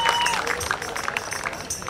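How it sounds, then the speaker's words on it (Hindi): Audience applause for a prize winner at a science and culture festival stage event, dense steady clapping mixed with crowd noise throughout, fairly loud and close. "प्लीज तालियों के साथ इनका उत्साहवर्धन करेंगे।"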